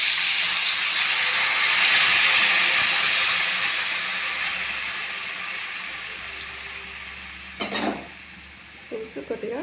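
Tamarind stew (pulusu) boiling in a pot, giving a steady bubbling hiss that slowly softens, with a couple of brief utensil clatters near the end.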